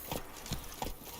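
Hooves of Roach, Geralt's horse in The Witcher 3, clip-clopping in an uneven trot with several distinct thuds over soft game ambience, no talking.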